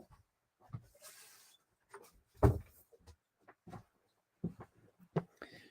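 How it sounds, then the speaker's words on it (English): An indoor door is shut with a few scattered knocks and rattles, one heavier thud standing out in the middle, then lighter clicks as it settles; nearby, moderately loud, with no talking. "Someone's coming, and the door. I have to close the door."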